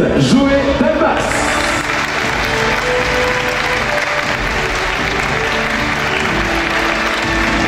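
An audience at the Miss Oise 2020 beauty pageant results ceremony breaks into sustained loud applause for the third runner-up, a dense steady wash of clapping filling the hall, with a voice briefly heard at the start.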